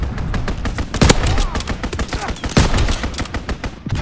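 Rapid strafing-run gunfire in Call of Duty: WWII, a dense stream of loud, close automatic bursts with a few heavier cracks standing out, continuous across the whole stretch with no talk.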